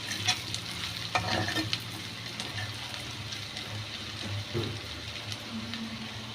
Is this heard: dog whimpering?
no